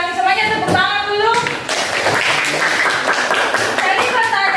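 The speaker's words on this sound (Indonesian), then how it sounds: "Semuanya tepuk tangan dulu." A classroom of students clapping together, rapid overlapping claps under and between a teacher's speech, close and fairly loud throughout.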